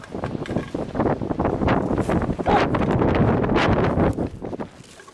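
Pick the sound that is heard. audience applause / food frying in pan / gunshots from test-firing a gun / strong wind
strong wind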